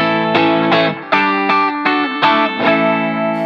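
Fender Stratocaster electric guitar played on a single-coil pickup through chorus and effects, a series of about seven bright, shimmering plucked chords or notes, each ringing briefly before the next, loud and clear without speech.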